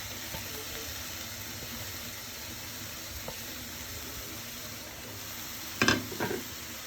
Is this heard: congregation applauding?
no